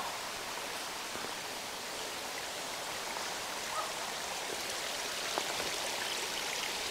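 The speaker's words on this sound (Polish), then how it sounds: "Tutaj tędy płynie ten strumień." Steady broadband rushing of a mountain stream flowing over rocks, constant and fairly loud, with occasional small splashes and no voices.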